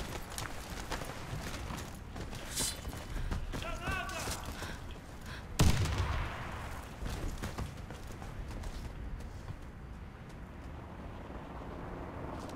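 A grenade blast in the CrossFire shooter game lands as one loud, sharp burst midway, set against steady in-game clatter, footsteps and shots, with players talking over it.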